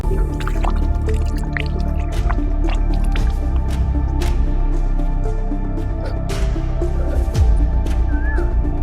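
Hands being washed with water outdoors in Mau: steady splashing and dripping with squishy wet rubbing, close and loud, over a low background hum.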